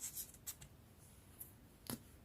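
A few quiet, sparse scissor snips through paper while cutting out a shoulder bustier dart pattern, close but soft, with gaps of near silence between cuts.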